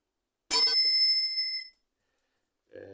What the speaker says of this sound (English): I also got the Swifty bell